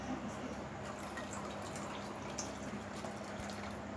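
Milk streams into a pot for making pudding, a steady close trickling and dripping pour that carries on evenly throughout.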